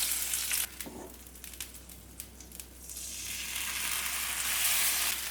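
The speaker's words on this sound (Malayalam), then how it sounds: "ഇനി ഇത് നമുക്ക് നമ്മൾ റെഡിയാക്കി വെച്ച ചിക്കൻ സ്റ്റൂവിലേക്ക് ഒഴിച്ചു കൊടുക്കാം." Hot fried onions, raisins and cashews are poured into a Kerala chicken stew, raising a bright, steady sizzle close by that swells toward the end, with a few light clinks of utensils.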